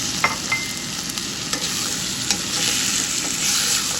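Cucumber and tomato curry sizzling steadily in a pan while a spoon stirs it, with scraping clinks over a constant close frying hiss that swells slightly toward the end.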